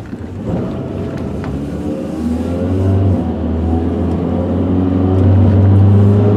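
A 1996 Honda Accord EX Wagon's VTEC engine revs up steadily and grows louder as the car accelerates, droning alone with no talking.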